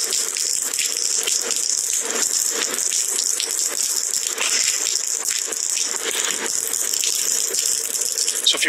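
Water pours steadily down from a shut, derelict former cinema building in Dundee, a loud continuous rushing splatter with no talk.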